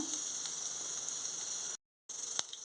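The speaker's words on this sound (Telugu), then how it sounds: "ఆయిల్ హీట్ ఎక్కింది ఆవాలు జీలకర్ర వేసేసుకుంటున్నాను" Mustard seeds and cumin sizzling in a little hot oil, a steady close hiss that cuts out briefly in the middle, with a faint pop or tap just after it resumes.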